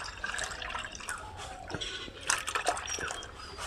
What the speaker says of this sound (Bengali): এবার যে জলটা বেরিয়েছে এবার এটার মধ্যে ঢেলে নেবো